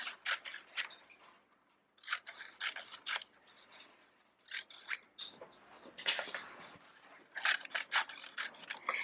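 Scissors snip through paper scraps while cutting strips for a kite mosaic craft, with quick clusters of crisp close-up cuts separated by brief pauses.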